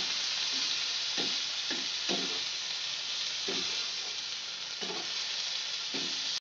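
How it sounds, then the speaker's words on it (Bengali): Apple chutney fries in a pan with a steady hiss and sizzle, while a utensil stirs in repeated soft scraping strokes, close and continuous with no voices. "এবার আমি সামান্য পরিমাণে জল দিয়ে দেবো।"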